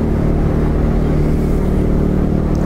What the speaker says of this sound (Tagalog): Mag-warm up muna tayo ng motor.